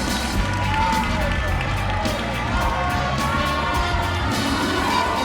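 Crowd cheering at a swimming race at an ISL match in Naples, a dense, continuous roar of voices and shouts with scattered claps, fairly distant and steady, under a commentator's voice.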